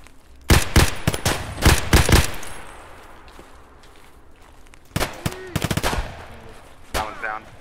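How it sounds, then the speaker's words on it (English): Gunfire in the shooter game Escape from Tarkov: loud, close bursts of rapid automatic shots in two volleys separated by a quieter pause, with a brief voice near the end. "Let me shoot him."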